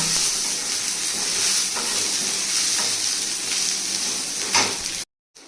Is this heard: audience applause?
no